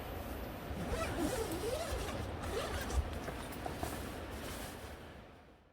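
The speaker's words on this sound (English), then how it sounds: "I'm going to go ahead and unzip this." A rooftop tent insulation liner for a Torro Offroad RTT is unzipped in one continuous, close zipper pull lasting about five seconds, with no voices over it.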